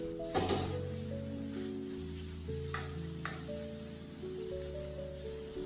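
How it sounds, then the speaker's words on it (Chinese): Pickled mustard greens dry-stirred in an oil-free wok over high heat give off a low sizzle, with a few sharp spatula scrapes against the pan under steady background music. "开大火把酸菜表面的水分炒干，炒出香味"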